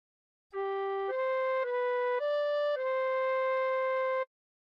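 A recorder plays a short phrase of "Nearer My God to Thee", five pure, steady notes joined smoothly in one breath, close and alone in quiet surroundings.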